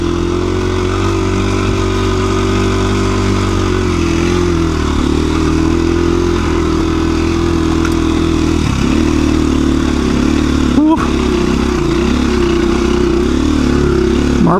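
A KTM 350 EXC-F dual sport motorcycle climbs uphill over rocky ground, its engine droning loud and close throughout, the pitch rising and dipping briefly as the throttle changes.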